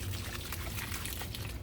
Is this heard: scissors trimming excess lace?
no